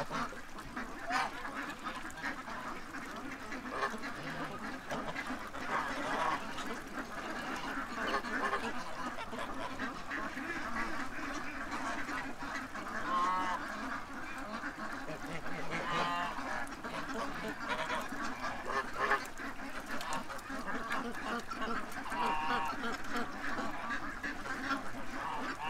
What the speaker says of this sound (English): Most of the geese we have are either African or Chinese.